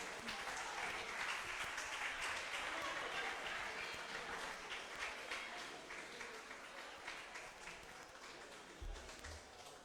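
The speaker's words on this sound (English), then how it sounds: "Oh, please keep clapping." A crowd at a national quarter-final elimination event keeps clapping steadily, a dense, sustained applause that gradually tapers in loudness over about ten seconds, with a low thump near the end.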